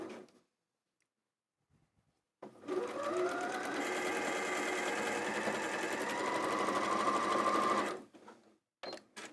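A sewing machine stitches fabric pieces in a quilting project, a near, even whirring run of rapid stitches lasting several seconds between brief quiet pauses.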